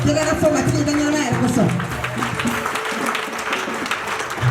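A church congregation applauds during an Easter 2021 service, a sustained burst of many hands clapping with a voice speaking over the crowd throughout.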